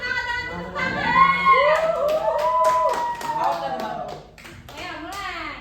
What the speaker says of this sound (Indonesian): Boleh kita kasih semangat dengan tepuk tangan.